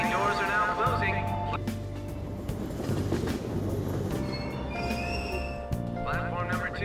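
A train pulls away from a station platform in the video game Persona 5 Royal, with a steady low rumble of rolling carriages and rail clatter that continues throughout and stays close and loud, under a station announcement voice.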